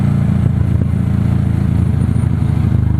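A big motorcycle engine idles steadily up close, a loud, low, even thrum with a faint mechanical clatter running throughout.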